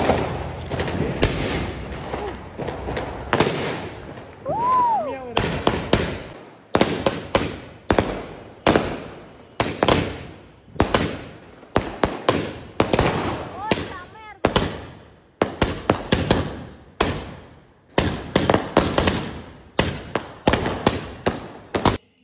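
A 60-shot Diwali fireworks cake fires a rapid run of loud, sharp bursts, one after another with short gaps, some with whistling trails before the pops.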